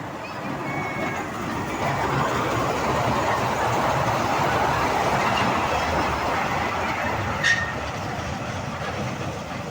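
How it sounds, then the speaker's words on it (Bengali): Steady, loud rumble of a train rolling past nearby, continuous wheel noise with a brief high squeal near the end. "এই যে ট্রেন রাস্তা, ট্রেন চলছে।"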